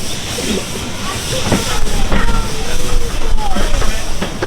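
Steady hissing and rumbling of a miniature steam train in motion at Lappa Valley, with faint rail clatter, while people talk over it.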